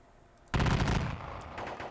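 Massed musket volleys in the Civil War strategy game Tiller Games ACW Battle of Cassville: a sudden loud crackling fusillade that rolls on for about half a second, then fades into a softer scattered rumble.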